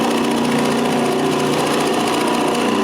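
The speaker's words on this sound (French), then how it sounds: "j'utilise la perceuse à colonne pour faire le demi-cercle" A drill press cuts a half-circle in walnut wood for a clock frame, a loud, steady, unbroken machine whine and drone held close for the whole stretch, with no talking.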